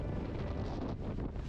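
Gusting wind buffets the microphone in a loud, rough rush that swells and dips over a short moment, with no voices, on a ride in North Luzon.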